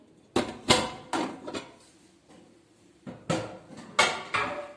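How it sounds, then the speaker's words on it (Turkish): Metal pots and pans clank and rattle in several sharp bursts in a kitchen, a pause in the middle, then more clattering as a cooking pot and a pan are pulled out. "Ona şimdi hemen bir tencere çıkartalım."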